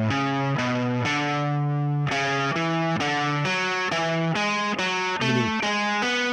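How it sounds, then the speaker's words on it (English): Electric guitar with effects and light distortion plays an intervallic sequence in thirds, a steady run of sustained notes stepping upward, loud and continuous with no talking. "if I had an intervallic sequence that was going in thirds, it would sound like this"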